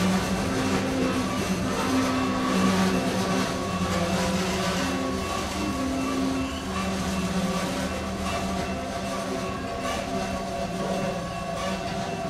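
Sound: train

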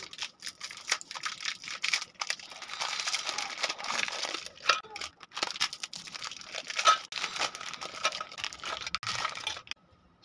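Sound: tearing open Happy Happy biscuit packets

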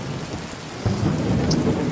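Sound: rain and wind with thunder at a river

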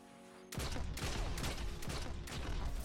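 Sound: shotgun fire in the video game Destiny

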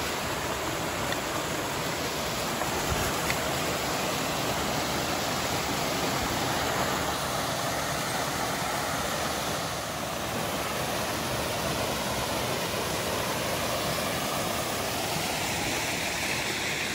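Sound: flowing water of a stream

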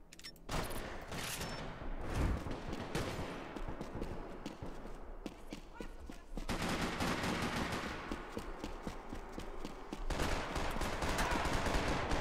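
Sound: gunfire in Max Payne 3 multiplayer video game

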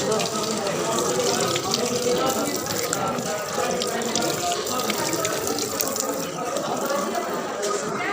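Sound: washing hands under running water

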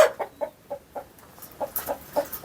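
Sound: native chickens clucking on a farm

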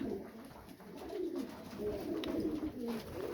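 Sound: fancy pigeons cooing in a loft

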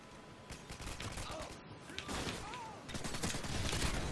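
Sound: gunfire in the video game Modern Warfare 2

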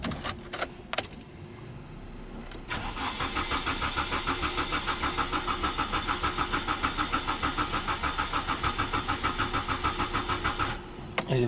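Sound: 1998 Nissan Sentra engine cranking but not starting

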